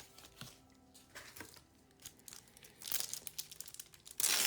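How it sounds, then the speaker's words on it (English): Wrappers of 1990 Score Football card packs being ripped open by hand, with close crinkling and tearing in scattered bursts that swell into a louder rip at the end. "I do enjoy ripping these packs and seeing a lot of players from my childhood"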